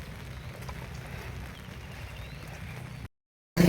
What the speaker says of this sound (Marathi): पाऊस वाढायला लागलाय थोडासा